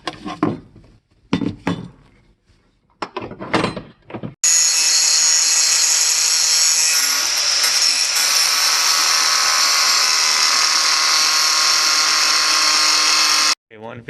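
A power tool cuts out metal on a 1979–2004 Foxbody Mustang during a lower torque box reinforcement install, a loud steady high-pitched whine running about nine seconds after a few short bursts of talk.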